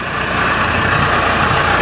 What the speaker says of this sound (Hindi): पीछे मेरा ट्रैक्टर आ रहा है